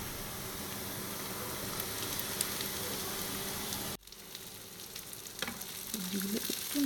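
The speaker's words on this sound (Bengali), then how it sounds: "পেঁয়াজটা দিয়ে একটু ভাজা ভাজা করে, পেঁয়াজটা হালকা একটু রঙটা চেঞ্জ হলেই বাকি সবজিগুলো দিয়ে দেবো।" Chopped onion fries in a pan for palak atta noodles, a dense continuous sizzle with stirring. It cuts off abruptly partway through, then a quieter hiss returns and slowly builds again.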